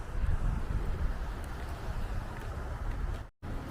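Gusty wind buffeting a microphone outdoors beside a frozen pond, a rough low roar that surges and eases, cutting out for a moment near the end.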